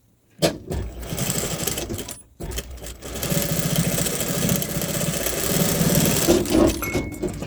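A sewing machine stitches the side reinforcement of a bra in two close, steady runs, the first briefly interrupted by a short stop before a longer continuous stretch of loud motor hum and needle chatter.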